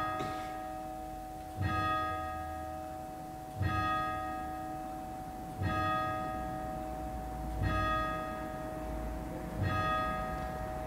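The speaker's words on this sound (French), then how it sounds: "Mais oui, les cloches! Bien sûr! Les joies de tourner dans une église." Church bells ringing inside a church, a large bell striking loudly about every two seconds with a long humming resonance between strikes, and no one speaking.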